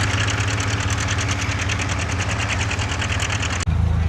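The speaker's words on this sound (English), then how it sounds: "The twin 720 is still out there pulling as hard as it can" A twin 720 tractor engine pulls hard at a vintage tractor show in Rantoul, Illinois, giving off a loud, rapid rhythmic knocking chug, close and unbroken, before a sudden drop and change in tone at the end.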